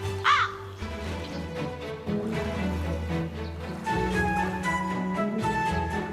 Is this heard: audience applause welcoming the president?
no